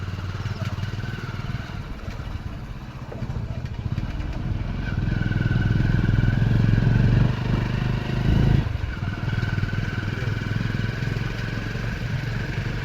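A motorcycle engine rumbles steadily and close by throughout, swelling a little louder midway as it rides on a rough rural road at night, with no talking.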